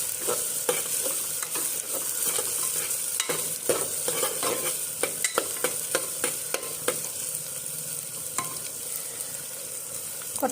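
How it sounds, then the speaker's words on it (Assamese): Ginger and garlic sizzle steadily in a hot pan while a utensil stirs and scrapes, with sharp regular clicks over the continuous frying hiss. "আমি ভাজি আছোঁ।"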